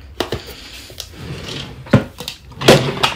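A makeup storage drawer in a home organizer slides and clunks, producing several short knocks and scraping rattles spread unevenly across a few seconds, close and fairly loud.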